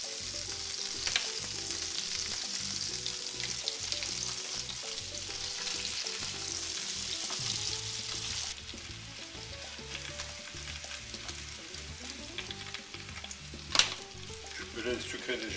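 Apple pieces sizzle and fry steadily in melted butter in a pan for a Landaise tourtière, with a close, continuous crackle and occasional stirring clatter throughout.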